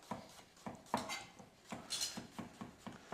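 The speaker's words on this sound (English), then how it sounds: "So we're just going to slice this up." A single garlic clove is sliced with a knife on a board, making a quick run of about a dozen crisp, evenly spaced taps and chops, close and fairly quiet.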